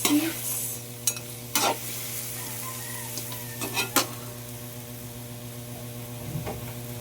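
Spicy fried chicken adobo sizzles steadily in a pan while a utensil stirs and scrapes against the metal in several short clinks and knocks, close up with no talking.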